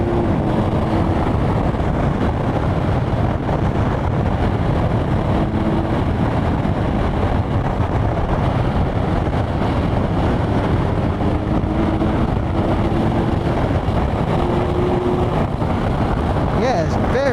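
A 2020 Kawasaki Ninja 1000SX motorcycle pulls hard through the gears at higher revs, a continuous loud engine roar mixed with heavy wind buffeting on the microphone, with brief rising tones as it shifts.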